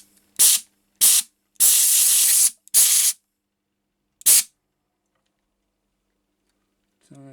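Compressed air blows residue off a crystal heater board fitted with a PTC heater in bursts: five sharp, loud hissing blasts, one held for about a second, separated by silence.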